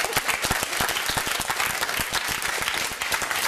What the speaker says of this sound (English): That was for you, that round of applause.